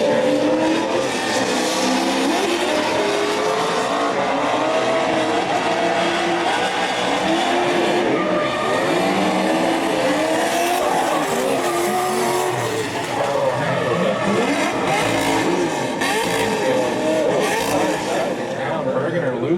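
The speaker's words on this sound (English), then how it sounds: "it sounds like Brackstone went to let the clutch out and went straight to limiter" Loud race car engines roar and scream continuously, with a harsh buzzing note as a car hits the rev limiter when the clutch is let out, plus tire noise and an announcer's voice underneath, at the Great Lakes Pro Am race.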